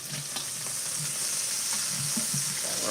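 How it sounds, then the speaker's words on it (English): Bacon frying in a pan and stirred: a bright, steady sizzle with soft scraping strokes and small taps of the utensil, close by and fairly quiet, with no speech. "I'll give my bacon a little bit of a stir here real quick."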